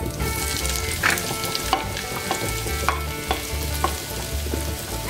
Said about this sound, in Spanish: Los voy a dejar así y le vamos a añadir las cebollas picadas